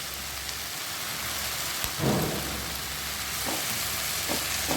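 Curry leaves and a pinch of asafoetida crackle and sizzle in hot oil for a banana stem chutney, a steady broadband frying hiss with a louder burst of spattering midway and a few sharp pops, no talking.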